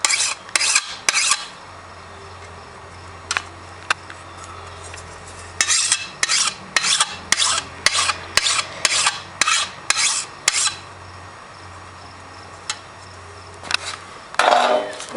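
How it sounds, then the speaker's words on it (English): A hand file rasps in short repeated strokes against a Honda lawnmower blade, close and crisp, in uneven bursts with brief pauses between them. "That was the blade sharpening for Honda Lawnmower."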